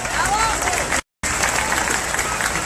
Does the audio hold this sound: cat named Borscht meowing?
no